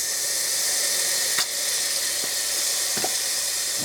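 Garlic paste squeezed into a hot pan for a ginger curry raises a loud, steady, close sizzle, broken by a few soft squelching squirts from the tube.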